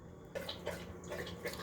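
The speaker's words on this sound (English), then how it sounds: "you can hear my dog drinking water in the background" A dog laps water in a home kitchen, soft repeated wet slurps in a quick irregular rhythm, faint and somewhat distant against a low steady background hum.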